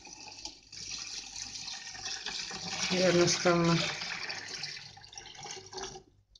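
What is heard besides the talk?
cold water poured from pot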